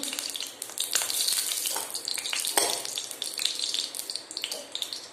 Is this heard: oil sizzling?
yes